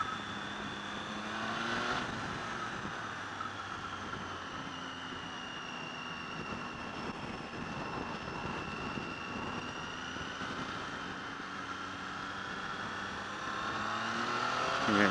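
A Triumph Tiger 800XC motorcycle engine drones steadily while riding on the road, its pitch slowly sliding as the bike slows under engine braking and then builds again, with continuous wind rush and no voices.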